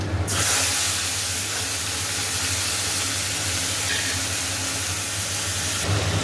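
Tomato goes into hot oil with black cumin seeds in a pan that has held fried fish. It sets off a loud, dense, close sizzle that holds steady for about six seconds.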